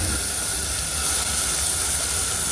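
Onion and coconut paste fries in hot oil while cooking a hilsa fish curry, giving a steady, fairly faint sizzling hiss with no voices.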